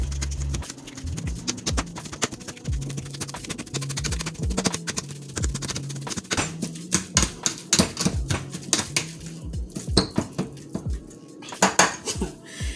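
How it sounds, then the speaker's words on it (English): Rapid metallic clatter of a pastry blender striking a pot as it mashes skin-on buttered potatoes, with rhythmic chopping and mashing taps and scraping, continuous and close. "I do have a pastry blender. So I'm gonna use that to beat these up."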